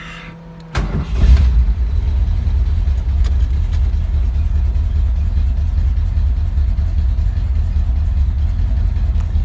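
A 1965 Ford Ranchero fitted with an electric cooling fan and an electric fuel pump catches with a short burst and settles into a steady, loud, low rumbling idle close by.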